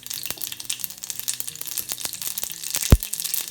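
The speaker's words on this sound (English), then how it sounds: "These are just black mustard seeds, and they're going to start popping." Black mustard seeds crackle and pop in hot oil, a dense run of sharp, irregular snaps close by, with one louder pop near the end and no voices.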